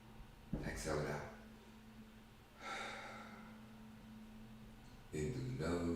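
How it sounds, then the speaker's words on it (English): Slow, deep breaths drawn in through the nose and pushed out through the mouth, three audible breath sounds spaced a couple of seconds apart, close and soft, as in a guided breathing exercise. "The last 2, in through the nose and out through the mouth. Breathe with me. Exhale it out."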